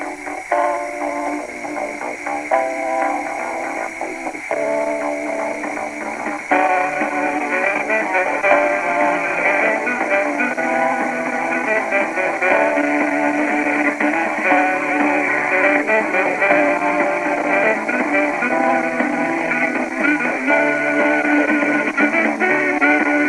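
A 1964 IBM 214 portable dictation machine playing back tape, giving a loud, continuous narrow-band lo-fi voice recording with a steady hiss.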